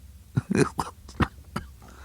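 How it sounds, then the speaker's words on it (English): A man coughs several times in quick, harsh bursts, close by, with short gaps between them. "Suddenly the little man began to cough."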